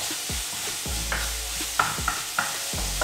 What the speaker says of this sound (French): on casse bien la viande hachée pour en faire des bons petits morceaux à manger avec les pâtes